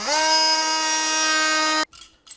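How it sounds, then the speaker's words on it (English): An oscillating multi-tool cuts an opening in a wall for an old-work electrical box, giving a loud, steady high-pitched buzzing whine for nearly two seconds before stopping abruptly, followed by a couple of faint handling knocks. "using the oscillating tool, we'll make it the opening enough to accommodate this box"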